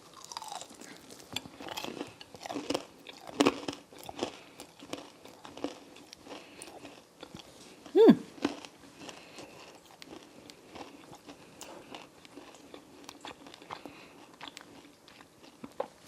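Close, crisp biting and crunching into Wingstop lemon pepper chicken wings, repeated bites followed by steady wet chewing, with one louder crunch midway and no talking.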